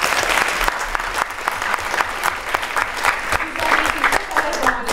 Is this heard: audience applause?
yes